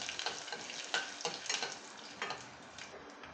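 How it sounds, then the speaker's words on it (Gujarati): Peanuts sauté in a pan of oil, giving a close, busy sizzle with rapid crackles and light ticking pops that hold steady throughout. "સિંગદાણાને તેલમાં સારી રીતે સાંતળી લેશું।"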